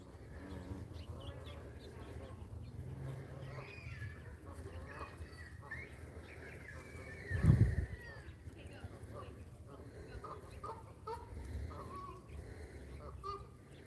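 Geese gathered near water to drink give off fowl-like honking and calls, with one louder burst partway through, all heard beneath steady talking and background noise.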